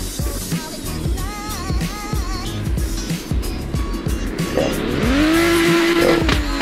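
Tires squeal and skid as a car spins out while drifting in a Roblox racing game, with engine revving throughout and a long rising screech building near the end.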